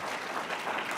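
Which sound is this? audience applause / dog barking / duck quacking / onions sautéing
audience applause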